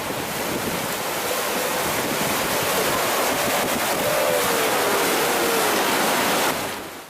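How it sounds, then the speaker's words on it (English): Tidal water rushing out of a large shallow lagoon at the centre of a Kimberley reef as the tide drops, a steady, loud roar of churning surf like river rapids, with wind buffeting the microphone throughout. "millions of litres of water drain from a large shallow lagoon"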